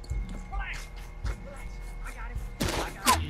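Gunfire in Red Dead Redemption 2, several sharp shots spaced through the stretch, then a louder close volley of bangs at the end, under people talking.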